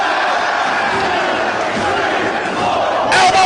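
Dense roaring wrestling arena crowd at a Ring of Honor-style Fight Without Honor match, loud and sustained, swelling briefly near the end with a sharper burst.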